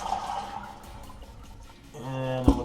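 Toilet with a Fluidmaster 400A fill valve being flushed after the main water is shut off, a rushing swirl of water that surges louder toward the end, close by with a voice briefly heard.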